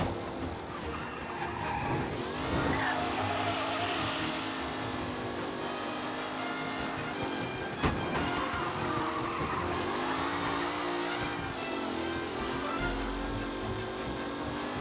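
Race cars in Mafia Definitive Edition roar along the track with continuous engine drone and screeching tire skids, loud and sustained with a sharp crack near the middle.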